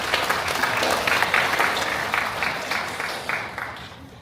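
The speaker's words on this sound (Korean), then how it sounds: "이런 데 박수를 쳐주셔야 돼요." Applause from an audience at a county governor's New Year village visit in Cheongyang's Daechi-myeon, a steady dense patter of clapping that fades gradually, with faint voices beneath.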